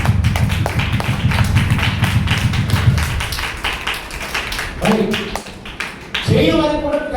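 A group of children clapping together at a church gathering, rhythmic loud claps in rapid succession with voices and singing mixed in over and between them.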